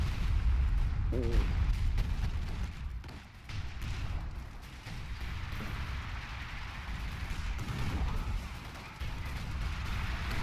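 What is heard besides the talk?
artillery fire thwarting an attack in a WWII strategy video game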